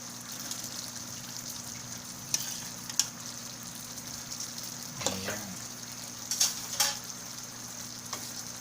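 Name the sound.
pork chop frying in pan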